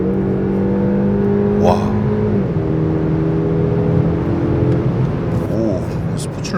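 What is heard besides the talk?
Mercedes-Benz E300 W214 accelerating hard in sport mode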